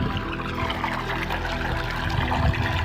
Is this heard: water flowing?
yes